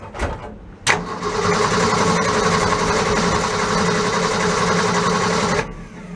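A worn 1965 Ford Econoline van cold-started with the choke, catching after a brief crank and settling into a loud, steady running engine for several seconds before cutting off.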